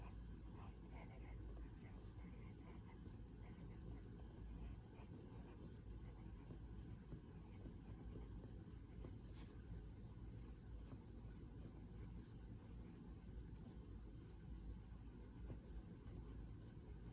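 Pen nib scratching ink onto paper while a short sentence is handwritten, a faint continuous scratchy texture over steady low background hum, with no talking.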